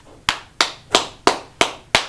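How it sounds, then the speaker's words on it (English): A class claps in slow unison, six sharp, evenly spaced claps close by with no talking between them. "Make sure we clap it up for class"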